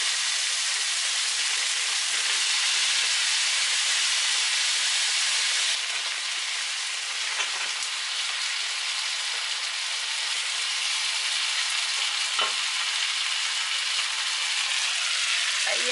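Seafood pasta ingredients, squid and shrimp, sizzle steadily in a hot pan, a loud continuous hiss of frying that runs unbroken with only slight shifts in intensity.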